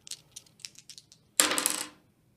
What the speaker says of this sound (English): So then you roll your dice